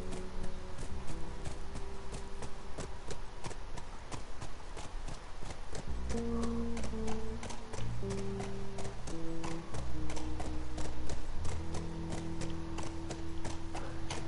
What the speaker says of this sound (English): If only these horses weren't so slow.